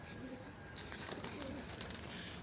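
Pigeons cooing softly at an aviary among other birds, a few faint low coos over steady background hiss, with light speech-like noise at moments.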